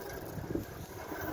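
Gusty wind rushes steadily around a small home wind turbine under a generator charging test, a broad, close roar with a brief louder swell midway.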